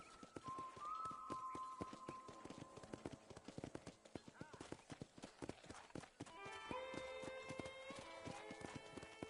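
Horse hooves clip-clop steadily at a walking pace by a ranch corral in Red Dead Redemption, with a neigh near the start and light game music tones over the rhythmic hoofbeats.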